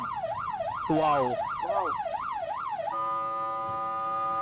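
An ambulance siren on a road in Malaysia wails in a rapid rising-and-falling pattern, then switches to a steady held tone, fairly close and clear, with a brief exclaiming voice and a vehicle horn-like blare mixed in.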